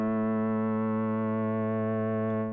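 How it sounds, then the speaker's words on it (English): A steady FM synthesizer bass note from the Altered Beast soundtrack, channel 1, holds as one unbroken droning buzzy tone, loud and even throughout with no other sounds. "I sort of used it as a bass tone that overlays everything."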